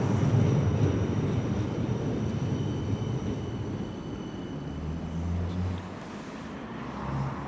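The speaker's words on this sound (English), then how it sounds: "Tram just coming in." Low rumbling of a tram rolling steadily into a stop on West Bromwich High Street, with faint squeals and hum over a busy outdoor background; no voices.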